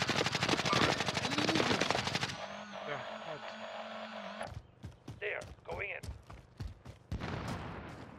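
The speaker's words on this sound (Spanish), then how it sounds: "Están disparando de ahí." Rapid automatic gunfire in Call of Duty Warzone, a loud sustained burst at first, then a lull with game tones before sharp scattered shots return; players talk over parts of it.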